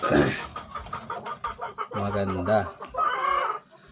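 Breeding hens at Emery Game Farm clucking and calling near the microphone, with a rooster-like crowing call partway through, while someone talks over them.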